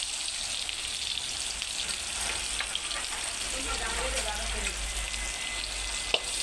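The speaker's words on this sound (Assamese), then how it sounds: "এতিয়া মই দাইল ভাজিবৰ কাৰণে ইয়াত দিছোঁ পিঁয়াজ।" Onions sizzle in hot oil in a pan, frying as the base for dal, with a long green chilli added. The frying crackle is steady and close, running unbroken from start to end.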